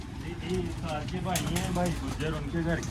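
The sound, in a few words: pigeons cooing on a rooftop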